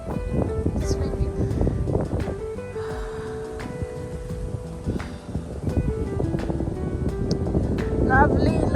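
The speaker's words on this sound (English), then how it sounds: "It's windy." Wind buffeting the microphone outdoors on a summer nature walk, a steady rumbling gust noise throughout, heard under a person talking and with faint bird-like chirps.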